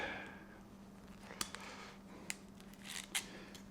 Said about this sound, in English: Take my dikes, cut that piece out.